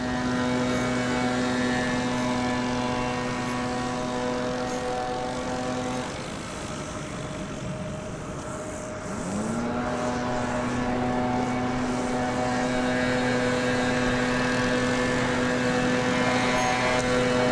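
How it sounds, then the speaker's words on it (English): Jet airliner at DFW Airport rumbling past with a steady loud engine roar and a whining tone that dips and then rises again over about eighteen seconds, heard alone. "we've got jet plane sounds"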